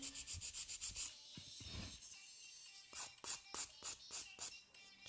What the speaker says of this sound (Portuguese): Estou com medo a limar aqui, confesso.